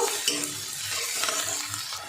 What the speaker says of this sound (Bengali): কাঁচা লঙ্কাটা দিয়ে দিলাম। লঙ্কাটা বন্ধুরা আপনারা আপনাদের স্বাদ মতো দেবেন। একটু ভেজে নেব